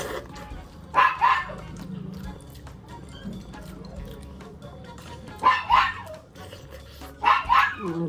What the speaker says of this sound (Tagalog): Nagigit na yung aso.